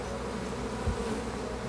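Honey bees buzz inside an opened hive during a beekeeping inspection, a close, steady, dense hum with one brief soft knock partway through.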